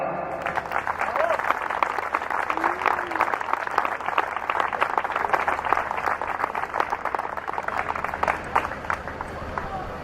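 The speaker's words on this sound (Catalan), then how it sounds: "Un fort aplaudiment per a Rafa Carrió." Strong applause from a gathered crowd at a political October 9 celebration in Dénia, sustained rapid clapping at an even level for about ten seconds.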